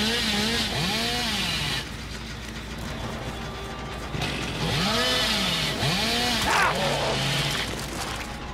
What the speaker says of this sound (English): My freaking chainsaw is almost overheating too.